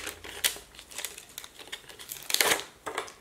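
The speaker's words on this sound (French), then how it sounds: "J'ai du scotch de compète, hein. C'est large, ça prend toute la largeur d'un coup" Wide competition-grade adhesive tape pulled off the roll and pressed down while sticking cutting dies onto a white backing, giving crinkly ripping bursts, the loudest near the middle, with quieter crackles and taps between.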